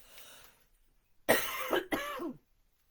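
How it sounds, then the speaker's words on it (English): A person with a bad cough, apparently needing a lozenge, coughs hard in two or three close, loud bursts after a moment of near silence. "I'm not going to stop coughing."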